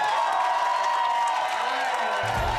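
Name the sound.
audience applause and cheering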